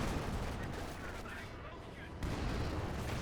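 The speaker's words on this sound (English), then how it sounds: "Got some sort of artillery being brought in," Artillery and gunfire in Company of Heroes 2 rumble as a dense, low mix of booms and bursts under steady game noise, faint overall, with a louder swell near the end.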